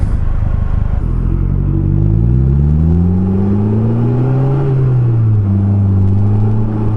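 A Polaris Slingshot with a 2.4 liter engine accelerating through the gears, a loud close rumbling engine rising in pitch, dropping at a shift around the middle, then climbing again.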